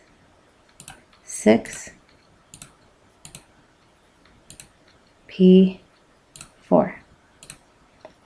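Calculator keypad buttons tapped in a string of light, close clicks, with a few louder bursts of speech breaking in between the presses.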